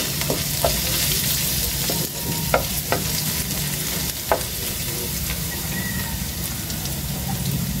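Onions fry in a pan for a Filipino fried egg and tomato dish, a dense close sizzle like light rain with several sharp spatula taps and scrapes as they are stirred.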